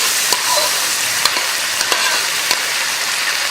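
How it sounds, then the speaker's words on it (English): Chicken with ginger, garlic and vegetables sizzles loudly and steadily on a very hot Chinese iron plate, with a constant crackling hiss and a few faint clinks of utensils, no voices. "sizzling ginger garlic chicken with vegetables"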